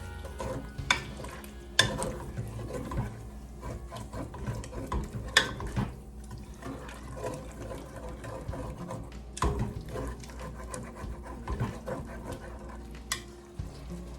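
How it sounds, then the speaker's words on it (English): A bamboo spoon scraping and stirring along the bottom of a pan of thick, bubbling food. Quiet, continuous stirring scrapes sit over a soft sizzle, with a few sharper knocks against the pan. "it has a good flat edge that I can use to scrape the bottom of the pan with"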